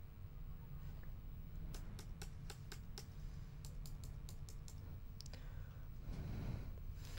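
Arrow keys on a computer keyboard tapped during Inkscape editing, a quick run of crisp clicks in two clusters over a low steady background hum, close and fairly faint.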